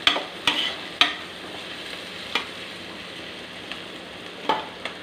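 Onions with a little salt softening in a pan while a spoon stirs them, a few sharp clinks and scrapes at the start and near the end over a quiet, steady sizzle.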